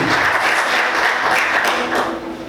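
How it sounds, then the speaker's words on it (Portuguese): A church congregation applauds during an evening service, a dense, steady wash of clapping that stays loud throughout and fades slightly at the end. "Quantos podem aplaudir Jesus nessa noite?"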